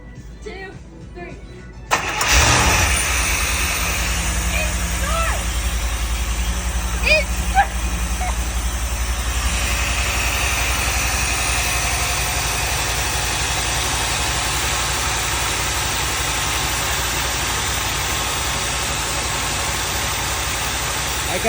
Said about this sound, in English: Here's the cold start.